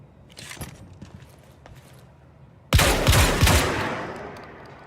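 Full-auto shotgun fire in Quantum Break, a few faint distant shots followed by a sudden loud burst of rapid booming blasts that trails off.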